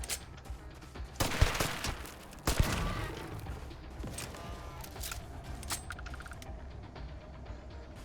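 Gunfire in the video game Starfield, with two loud bursts of shots standing out early and scattered lighter impacts and clatter through the rest of the firefight.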